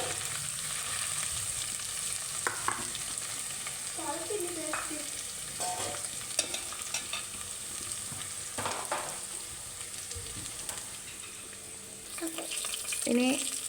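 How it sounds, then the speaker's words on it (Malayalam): Chopped garlic sizzles steadily in hot oil while a chicken curry is being made, with a soft continuous crackle and a few faint utensil clicks. No one speaks. "അപ്പോൾ അത് നന്നായിട്ട് ആ എണ്ണയിൽ കിടന്ന് ചൂടാവണം"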